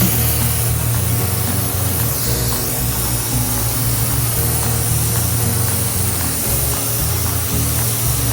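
A spray gun lays a steady, loud hiss of paint across a panel of a junkyard Porsche, running continuously and close throughout with no talk.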